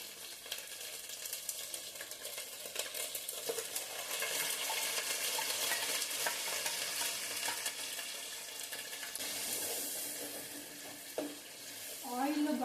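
A paste of tomato and onion fries in oil for a fish curry, giving a soft, continuous sizzle with stirring scrapes. It is fairly faint, and a brief clatter and bubbling come near the end.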